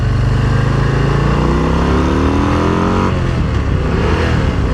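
Harley-Davidson Low Rider ST or Sport Glide V-twin engine revs hard and close, rising in pitch for about three seconds before dropping back to a loud, rumbling idle; no talk.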